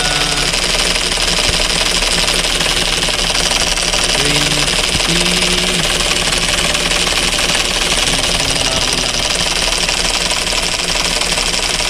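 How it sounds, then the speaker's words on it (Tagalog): A Hyundai car's air conditioning compressor runs steadily, a loud continuous mechanical drone with a rhythmic knocking pulse under engine noise and no pauses. "mandar na ang ating compressor"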